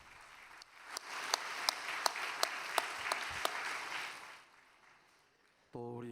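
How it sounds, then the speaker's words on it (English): Applause from a church congregation swells and then fades, with several sharp, evenly spaced louder claps standing out above the crowd before a brief tonal sound cuts in at the end. "Why don't we give him a big round of applause of gratitude?"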